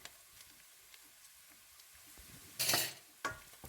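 Carrots tipped into a pan for a baked macaroni casserole give a close, brief rattling burst with a faint sizzle, followed by a second shorter clatter, over quiet kitchen background.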